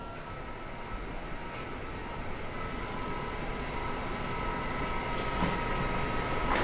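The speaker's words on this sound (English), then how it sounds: "What I'm going to do now is I'm going to bring the back and the legs up at the same time." Quantum Edge 2.0 power wheelchair actuators lifting the back and leg rests together give a steady, continuous electric motor whir that grows slightly louder over several seconds, with no talking.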